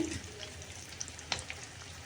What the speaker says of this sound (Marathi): अशा लाल तळू द्यायच्या आहेत म्हणजे अगदी कुरकुरीत खुसखुशीत होतात